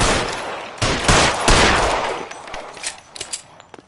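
Gunfire in the detective game L.A. Noire: a dense burst of loud, close shots clustered in the first half, then thinning into scattered sharper cracks with no talk over them.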